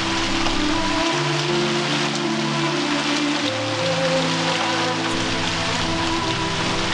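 Rain falling steadily, a dense continuous hiss of drops on surfaces at an even level with no voices.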